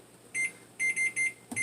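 Kitchen timer being set while applesauce is boiled and blanched for canning: a few short, bright electronic beeps, one alone and then three in quick succession, close and clear over a quiet room.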